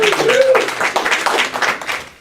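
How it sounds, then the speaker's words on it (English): A comedy panel audience claps in a short burst of scattered applause that tapers off, with a voice heard briefly at the start. "You can applaud."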